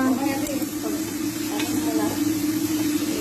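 Ginger sizzles steadily in hot oil in a pan for meat kabsa, with stirring scrapes breaking through the close, continuous frying hiss.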